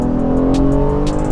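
A 2018 Acura TLX A-Spec's exhaust roars loud and close as the car accelerates, a steady dense engine drone with no voices.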